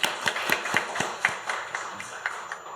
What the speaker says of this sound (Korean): 박수 한번 치세요.